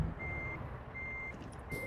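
Reversing beeps from a truck in American Truck Simulator, a steady series of evenly spaced single-tone beeps over a low engine rumble, with no talking.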